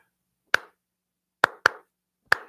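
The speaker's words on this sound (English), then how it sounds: "Clap it out." Four sharp, dry hand claps on a radio show, close and crisp, the first alone, then a quick pair, then a final clap, with silence between.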